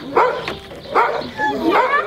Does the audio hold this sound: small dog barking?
yes